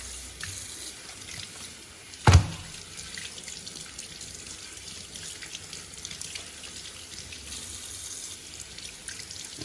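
Tap water runs steadily into a kitchen sink while raw chicken is rinsed for a stew, a constant close splashing hiss with one brief knock early on.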